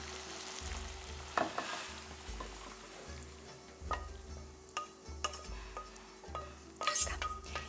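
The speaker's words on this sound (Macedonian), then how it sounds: "Веднаш сето ова го ставам во земјената тава." Food sizzles steadily in a clay pan as it is stirred, with rhythmic scraping strokes and occasional clinks of a utensil against the pan, close and continuous.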